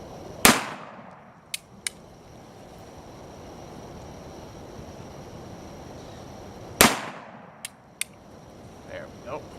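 Two loud, sharp shots from a Model 1879 Cavalry Reichsrevolver ring out several seconds apart outdoors, each followed by a decaying echo and a couple of quick faint clicks.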